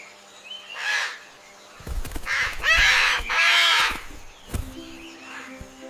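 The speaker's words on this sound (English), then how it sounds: "It's a parrot." Harsh, squawking calls from a parrot, several loud bursts clustered in the middle with a quieter call at the start and a softer one near the end, alone with no talk.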